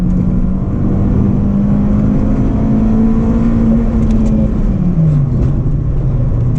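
An Acura RSX Base engine holds steady high revs at the red line on a backroad, a loud sustained drone that dips slightly toward the end, with no voices.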